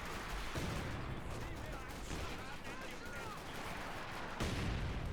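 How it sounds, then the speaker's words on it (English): Bombs strike a central bunker in a World War II real-time strategy battle on the Prabuty map, with a dense, rumbling wash of explosions and gunfire running steadily and fairly loud throughout, and a fresh burst of blasts near the end. "Oh, he's bombing the mid bunker."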